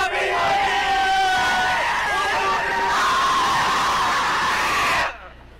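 Loud shouting and screaming voices fill the scene continuously for about five seconds, crowd-like and sustained, then cut off abruptly into near silence.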